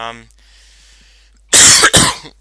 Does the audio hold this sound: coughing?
yes